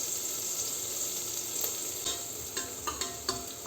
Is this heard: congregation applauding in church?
no